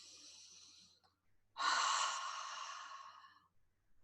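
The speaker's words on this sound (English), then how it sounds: "Take a nice, comfortable breath." Someone takes a deep, comfortable breath, with a sharp inhale followed by a long, soft exhale close to the mic in a quiet room, and no talking.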